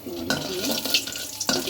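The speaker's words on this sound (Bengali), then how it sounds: "সরিষার তেল দিয়ে দুইটা মরিচ দিলাম, শুকনো মরিচ" Two dried chillies frying in hot mustard oil, making a close, continuous crackling sizzle with stirring scrapes and a few brighter spatters.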